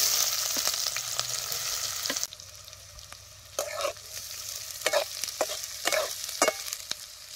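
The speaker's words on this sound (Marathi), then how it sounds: "आता हे बारीक चिरलेला कांदा हे तेलात टाकायचा" Finely chopped onion hits hot oil with cumin seeds in a pan over a village wood-fired stove, giving a loud sizzling hiss that settles into steady frying crackle while a utensil stirs with intermittent scrapes.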